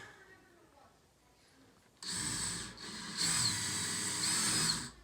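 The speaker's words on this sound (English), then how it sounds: "Drill a little bit, not all the way, just a little bit." A power drill whirs up abruptly and runs steadily with a rising, gritty whine, as if biting into wood, after a quiet stretch.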